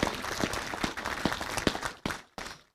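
Applause from a town audience at a mayor's New Year wishes ceremony in the Ardennes, a sustained clatter of many hands that breaks off, returns briefly and then fades out, with no talk over it.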